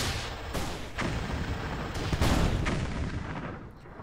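A missile launched in a Mad Max style tower defense game, heard as a few loud booming thumps over a steady roar of battle, close and forceful, with no talking.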